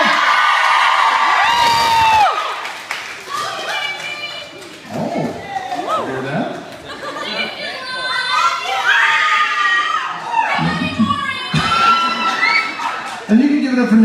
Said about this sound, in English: You guys can cheer for Andy.